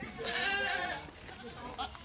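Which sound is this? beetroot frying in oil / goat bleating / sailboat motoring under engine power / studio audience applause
goat bleating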